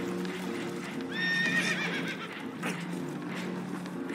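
In the Red Dead Redemption 2 video game, a spooked horse gives one clear, close whinny over a steady rumbling background of rushing water and boat noise, with faint hoof clatter around it.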